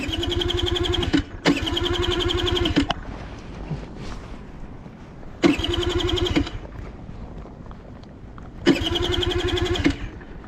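A motorcycle that had refused to start cranks in repeated starter bursts, each a loud whirring churn lasting one to two seconds with quieter idle-like gaps between, the cranking returning several times.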